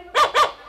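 A dog gives two short, sharp barks in quick succession, close by and loud, with a brief pause between them and nothing else around.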